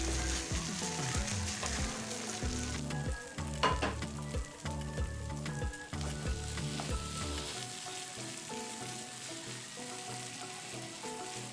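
Squid stirred into sizzling masala in a pan for a ghee roast, with continuous loud frying hiss and rhythmic scraping stirs over the first several seconds, then a steadier sizzle alone.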